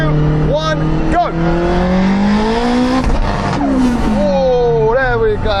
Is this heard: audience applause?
no